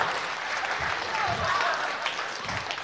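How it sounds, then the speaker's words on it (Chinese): A live crosstalk comedy audience claps in sustained, even applause, full and steady throughout, with a voice faintly audible beneath it. "观众朋友们再接一下啊，现场啊，那个保持一下热情，来，掌声起"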